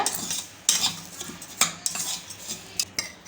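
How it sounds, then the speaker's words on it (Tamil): A spoon scrapes and clinks against a pan while stirring semolina roasting in ghee, with repeated sharp strokes at an irregular pace, close up, with no talking. "ரெண்டு நிமிஷத்துக்கு ரவையை நெய்யில் தாளித்ததோடு சேர்த்து வறுத்தாச்சு"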